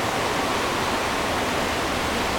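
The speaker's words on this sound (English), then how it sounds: "With a river flowing." A river flowing through a countryside spot, heard as a steady, full rush of water that stays even and loud from start to finish with no voices.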